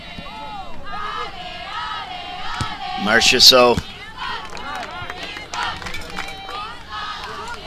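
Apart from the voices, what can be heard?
Quebec fans cheering at a football match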